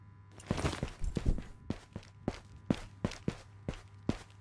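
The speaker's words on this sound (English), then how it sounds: "Am I hearing footsteps?" Footsteps in the VR shooter Ghosts of Tabor: a steady run of about eight sharp, moderately loud thuds at roughly even intervals over a low constant background hum, with no talking.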